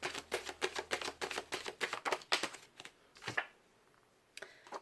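Tarot cards being shuffled by hand, a rapid series of crisp riffling flicks in a steady rhythm for about three seconds, then a pause and a single light tap at the end.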